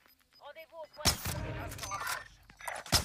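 Gunfire aimed at the player in a multiplayer shooter, heard as several sharp loud blasts with a short rattling burst between them, following a brief electronic tone and under occasional talking.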